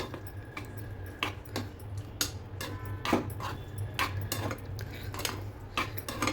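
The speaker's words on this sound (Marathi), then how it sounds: "आता हे चांगलं मिक्स करून घ्यायचं." A spoon stirring fried capsicum, paneer and soya chunks together in a metal pan, steady scraping clinks and taps at a quick irregular rhythm over a low background hum.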